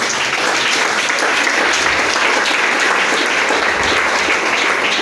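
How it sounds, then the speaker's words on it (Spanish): Sustained applause from a church congregation at a Spanish-language evangelism class, dense and steady throughout at close, even loudness. "Fuerte el aplauso para el Señor."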